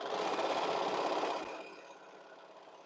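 A sewing machine runs steadily, stitching quilt pieces in pairs, a continuous close mechanical whir that holds loud for about a second and a half, then drops to a quieter run.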